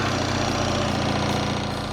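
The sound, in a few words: BMW R 1300 GS boxer twin motorcycle engine starting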